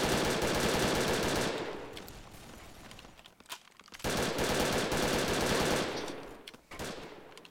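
Video-game gunfire in Brick Force comes as two long, loud bursts of rapid automatic shots, separated by a short lull with scattered single cracks.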